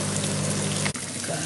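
Boiling water is poured into a pan of chicken in creamy white wine and mushroom sauce, a short, close, gushing pour that briefly cuts out and then resumes.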